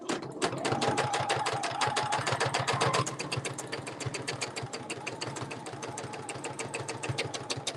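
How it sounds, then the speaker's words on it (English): A sewing machine stitching along a quilting template, its needle hammering in a fast, even rhythm close by, with a brief hum from the motor early on before the stitching continues steadily. "you're going to stop needle down, slide the template forward, and stitch it again"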